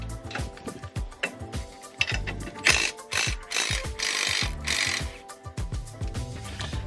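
Rapid ratchet clicks from a 17 mm wrench loosening rear suspension bolts that hold the strut to the lateral link on a Subaru Crosstrek, sounding in close, repeated bursts of ticking.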